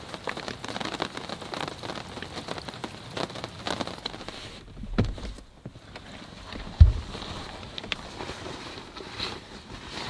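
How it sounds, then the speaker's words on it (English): Steady rain falls at a redwood forest campground, a soft continuous patter on surfaces with a few louder drips and thuds nearby, no talking. "my stay amongst the redwoods has been a rainy one"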